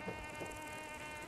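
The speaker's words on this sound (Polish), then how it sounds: "Jezu, komar?" A mosquito whines close by in Fallout 4, a thin, steady high-pitched buzz with slight wavering that swells louder right at the end.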